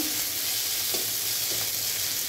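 Garlic paste with onion sizzles and fries in a pan for a spicy fish curry, a steady close crackle with a couple of soft stirring scrapes and no talking.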